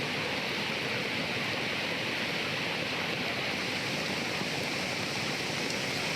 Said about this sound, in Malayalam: ആ ഡാമിന് മുകളിലൂടെ വെള്ളം കയറി ഒഴുകുന്ന ദൃശ്യങ്ങളാണ് നമുക്ക് അതിൽ കാണാൻ സാധിക്കുന്നത്